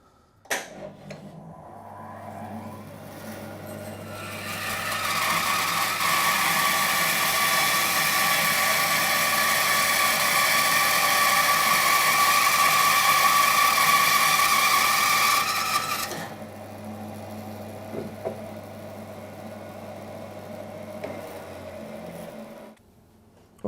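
A Record Power BS400 bandsaw cuts a thin maple veneer in one steady, loud rasping run of about eleven seconds, heard up close. The idling machine hums before and after the cut, and no one speaks.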